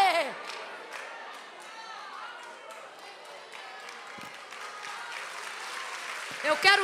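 Church congregation applauding during a sermon, a steady wash of clapping with crowd voices mixed in, swelling louder near the end.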